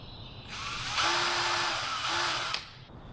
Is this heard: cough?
no